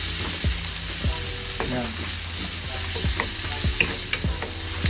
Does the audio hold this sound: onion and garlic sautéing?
yes